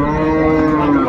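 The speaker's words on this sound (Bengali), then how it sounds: "আর আমরা দেখছিলাম সামনে চমৎকার গাভী বাছুর" A Sahiwal cow or calf at a cattle market gives one long, loud, close moo. No other sound is heard around it.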